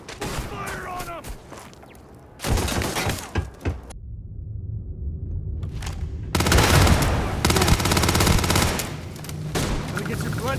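Gunfire in a firefight in the video game Starfield, with rapid bursts of automatic fire, sharp shots and shattering impacts, loud and dense, a brief lull, then heavier sustained shooting; voices are heard amid the combat.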